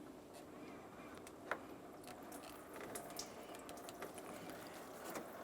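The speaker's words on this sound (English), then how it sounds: "Got a little bit of coolant coming out of this now." Coolant drains from the cooling system of a 1994-2002 Dodge Ram 2500, a faint, steady trickle of liquid with a few soft clinks, heard quietly and up close.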